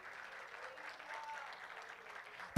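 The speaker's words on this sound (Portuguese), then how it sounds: "Você pode aplaudir ao Senhor se você quer esse amor perfeito na sua vida." A church congregation claps during a Portuguese-language sermon, a soft, distant patter of applause that continues evenly throughout, ending with a sudden loud thump.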